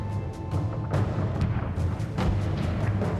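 Ming warship cannon fire against a pirate fleet rolls out as a rapid series of heavy booms and blasts over a dense, continuous rumble of battle.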